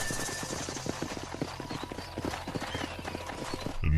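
Horse hooves clip-clop in a steady, fairly loud walking rhythm in a video game, with a brief louder burst at the very end.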